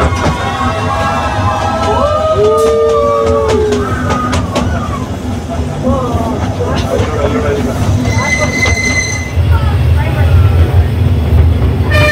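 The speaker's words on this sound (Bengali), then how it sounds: "ফাইনালি ট্রেনে বসা হলো আমাদের" Passenger train cars rumbling steadily along the rails with jolting motion, continuous low rumble throughout, while people chat and a few whistle-like tones ring out.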